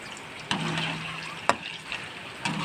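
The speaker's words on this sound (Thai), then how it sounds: "คนคนคนให้มะขามกับน้ำตาลละลายก่อนนะคะ" Tamarind and palm sugar melt in a pan as a spoon stirs them, a low bubbling simmer broken by three sharp scrapes or taps about a second apart.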